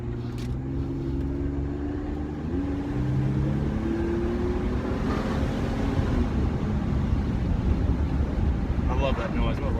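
Supercharged Ford Explorer engine pulling hard from inside the cabin, a loud, steady roar with rising whine tones as revs climb, mixed with heavy wind rush from open windows.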